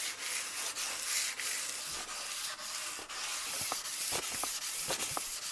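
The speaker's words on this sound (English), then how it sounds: "we're going to start hand sanding again, and we're going to start at 320" Steady rhythmic rubbing of sandpaper by hand, a hissy back-and-forth scrape repeating at an even pace, close up, with a few light taps near the end.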